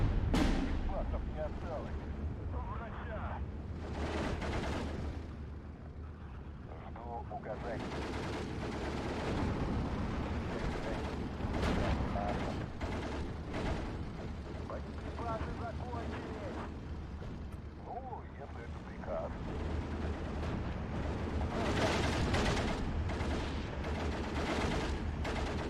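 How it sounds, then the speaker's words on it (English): P-40 fighter strafing infantry in a WW2 Steel Division 2 battle: dense bursts of machine-gun fire and explosions with a low rumble, sustained and loud for the whole stretch. "A P40 strafe these Pioneers to death."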